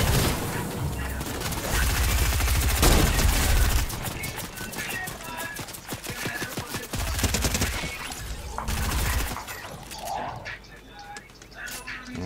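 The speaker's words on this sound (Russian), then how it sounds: "из Барта в упор стрелять" Gunfire in Fortnite, repeated rapid bursts of shots in fast clusters with sharp close cracks and some heavier booms, loud at first and thinning toward the end.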